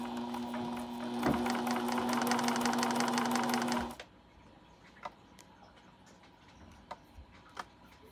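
A new sewing machine stitches steadily in reverse, its rapid ticking run loud and close for about four seconds before it stops, leaving a quiet room with a few faint clicks.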